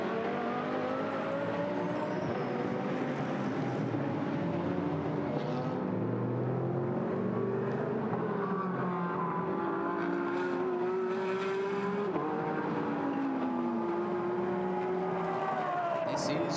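GT race cars, a GT America field catching the back of the GT4 pack, scream past on the Nashville circuit, with layered engine whines rising and falling as cars pass and shift, steady and loud throughout.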